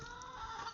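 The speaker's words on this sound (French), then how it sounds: "Aux poules qui me restent, les 2-3 poules pompons." A pompon hen gives a brief, faint cluck at a small home poultry farm, a single short call.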